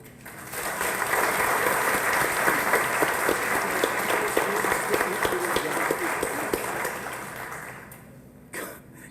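Audience applause at the Union County Commissioners' reorganization meeting in Linden, a steady wash of many hands clapping for several seconds before fading out, with a cough near the end.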